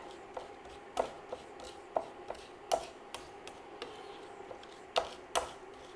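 Garlic is smashed and chopped on a cutting board with a knife, giving a series of sharp, close, irregular knocks, several strong thuds among lighter taps over a quiet background.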